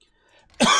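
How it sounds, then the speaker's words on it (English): A single loud, harsh cough bursts out close to the microphone at the end of a brief quiet stretch. "Sorry for coughing in your ear there."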